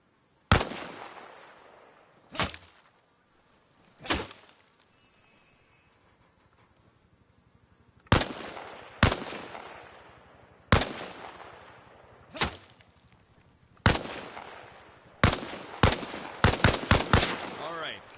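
Single gunshots fired while leaning out from behind a wall in the Arma video game, sharp loud reports with echoing tails, spaced out at first and then coming in a quicker run near the end.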